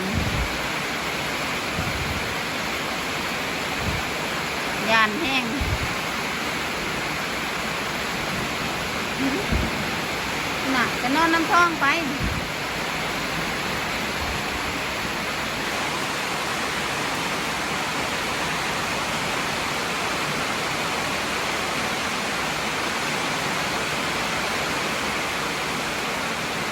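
Steady, dense hiss of heavy rain pours down throughout a thunderstorm, with faint voices briefly speaking underneath partway through.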